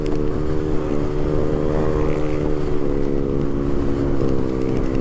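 A Honda Beat 115cc scooter with a racing exhaust drones loudly and steadily nearby, a sustained buzzing engine note with little change in pitch.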